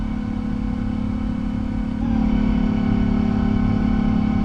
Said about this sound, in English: God, those engine sounds are so much better.